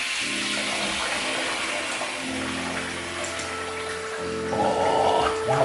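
Running tap water pours steadily into a sink as a razor and face are rinsed after a wet shave, a continuous near splashing that swells louder toward the end.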